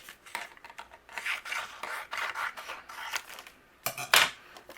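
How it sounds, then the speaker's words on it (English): Paper panel taped down and fed through a die cut machine, producing a steady rasping, grinding crank sound close by, with a louder scraping burst near the end. "I'm going to tape it down and run this through my die cut machine"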